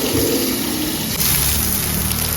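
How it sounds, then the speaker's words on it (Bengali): Greens washed by hand in water, a continuous close rush and slosh of water with steady churning and no pauses. "শাকটাকে ভালো করে এবার কচলে কচলে তিনবার চারবার করে ধুতে হবে"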